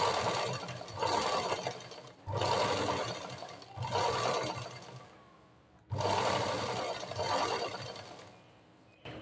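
Sewing machine stitching the neckline and shoulders of a blouse, running in four loud bursts with short pauses between, each run a steady close mechanical whir, with no talk.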